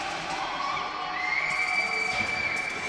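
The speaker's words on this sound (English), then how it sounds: "How about that pop from the Egyptian crowd behind the net? They're loving it." A partisan Egyptian crowd behind the net roars and cheers at a women's final between the Caribbean and Egypt, with whoops and a steady wall of crowd noise throughout.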